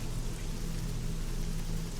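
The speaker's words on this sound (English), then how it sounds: "That night the rain returned, harder than before." Heavy rain falls in a steady, dense hiss that holds at constant loudness throughout, with a low rumbling undertone and no voices.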